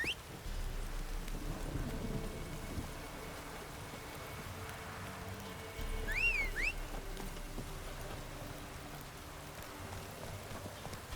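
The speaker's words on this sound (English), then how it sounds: "This downpour's a bastard" Steady heavy rain pours down in The Witcher 3: Wild Hunt with a low rumble underneath, constant and enveloping, with a brief high chirping tone partway through.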